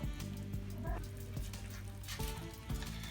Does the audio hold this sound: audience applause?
no